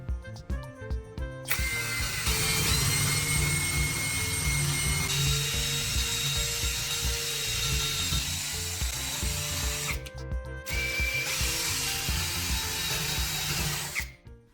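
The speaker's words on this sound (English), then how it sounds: "Then drill a hole straight through the center." A power drill whines steadily through wood, drilling a hole straight through the center, running continuously for most of the stretch with a short pause before starting again, close and loud.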